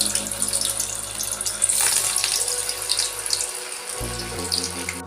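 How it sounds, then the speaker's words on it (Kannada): Vada made from upittu batter frying in hot oil, a loud, steady bubbling sizzle that runs unbroken for the whole stretch with no voices. "ಇವು ಒಂದೊಂದಾಗಿ ಎಣ್ಣೆ ಕಾಯ್ದದ ಈಗ ಹಾಕ್ತೀನಿ"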